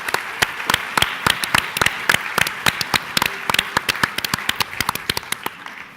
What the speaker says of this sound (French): Allez, on peut applaudir le bassin d'Arcachon.